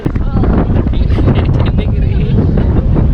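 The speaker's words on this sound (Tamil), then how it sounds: "ஆனால் காற்று சரியான காற்று" Strong, cold wind roars continuously and loudly into the microphone outdoors on a Hong Kong island boat trip, with a rough, buffeting rumble throughout.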